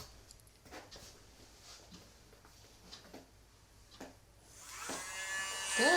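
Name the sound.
Dremel nail grinder switched on and off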